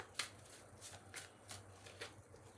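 Tarot cards being shuffled in a few separate crisp flicks spaced about half a second apart, close but quiet, with no voice over them.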